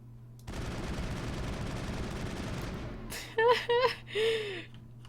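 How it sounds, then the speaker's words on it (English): Lancer assault rifle in the Mass Effect 1 Eden Prime level lets out a sustained burst of automatic fire for a few seconds, followed by short, loud voiced sounds. "I'm gonna use an assault rifle for the first time. The Lancer 1."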